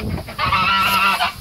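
Geese honking nearby, a loud, close, drawn-out nasal honk following a shorter call, with outdoor background noise.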